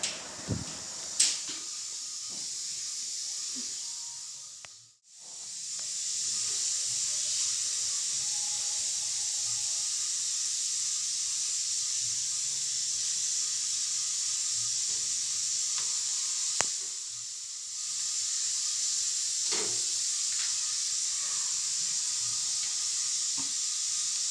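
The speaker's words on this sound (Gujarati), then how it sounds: "તો હવે આને ગરમ ધીમા તાપથી તળી લઈએ।" Steady, bright sizzling hiss of gulab jamun balls frying in hot oil over low heat, continuous for the whole stretch with a brief dip and a few faint clicks and pops.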